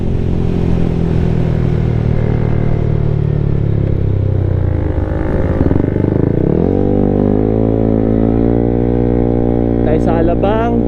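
A 213cc scooter fitted with performance parts drones steadily as it rides near Alabang on Daang Hari, its engine pitch sagging and then climbing through acceleration, loud and close, with brief talk near the end.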